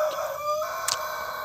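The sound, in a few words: sick chicken with ngorok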